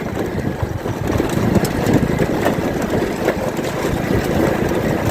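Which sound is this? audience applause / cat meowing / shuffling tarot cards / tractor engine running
tractor engine running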